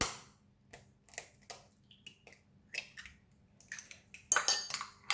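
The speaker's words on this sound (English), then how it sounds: "I always like to crack the egg on a separate bowl" Sharp cracks and light taps of eggs being broken on a separate bowl, several separate close clicks spaced over a few seconds, with a brief cluster of crisp knocks at the end.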